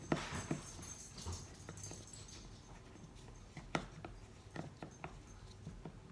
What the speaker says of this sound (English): Here comes my dog. She's coming up the steps now because she hears me talking.